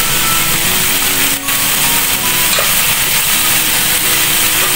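Cauliflower and chicken stir-fried in a pan, a steady bright sizzle with scraping stirring strokes running continuously, close and loud with no talking.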